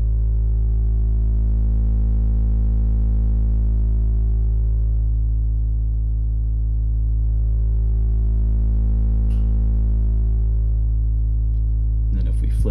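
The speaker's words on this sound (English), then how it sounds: "this filter knob here changes kind of just how much like distortion you have in total" A deep, sustained synthesized bass tone from a Krypt Modular "Steel-Toe" Eurorack kick drum module with distorted, shifting harmonics drones loudly, its timbre slowly sweeping as a filter knob changes the distortion.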